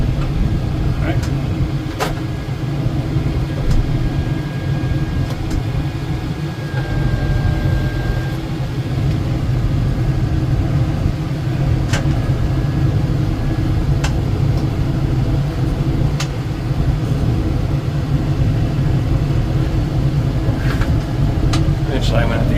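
A Kubota M7060 tractor engine drones steadily in second gear while crossing a pasture washout, a loud, continuous low rumble throughout with faint clicks and rattles on top.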